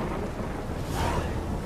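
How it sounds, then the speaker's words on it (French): Rain pours steadily with a low rumble of thunder swelling in the middle of a stormy stretch in the video game The Witcher 3, loud, dense and continuous with no talking. "Il pleut toujours dans cette contrée,"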